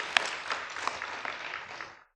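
A congregation at a special early-morning church prayer service gives a short, soft burst of applause that fades out after about two seconds.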